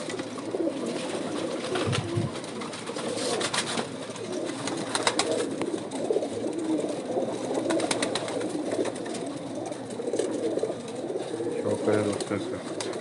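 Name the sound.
pigeons cooing, rare 79-breed pigeons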